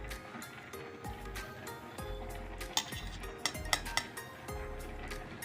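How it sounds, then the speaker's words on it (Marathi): Oil ladled into a pan on a home kitchen stove for Kharda chicken, with a few clinks of a metal ladle against the pan and faint low background hum, no talking. "इथे पॅन ठेवला आहे मी आणि या पळीने घेते तेल"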